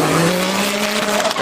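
A Mitsubishi VR4 at a drag racing event gives a loud, close engine roar with a rising tonal whine and a hint of tire squeal, sustained over the whole moment.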